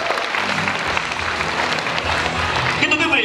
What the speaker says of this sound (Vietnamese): Hãy vỗ tay thật nồng nhiệt, xin mời quý vị.